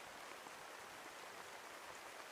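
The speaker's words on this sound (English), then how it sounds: "once I press the rain, you can hear the sounds of the rain" Rain ambience from the Noisli background-sound app plays as a steady, even hiss of falling rain, faint and continuous throughout with no other sounds or voices.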